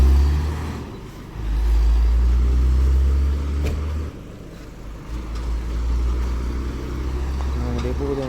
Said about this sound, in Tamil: அப்படியே போகுது வண்டி எல்லாம்